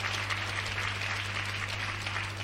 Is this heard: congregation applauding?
yes